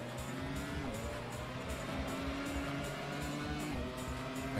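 A race car in the Grand Prix Challenge PS2 video game braking and then accelerating, its engine tone falling and climbing again in a continuous game-audio drone with no talk.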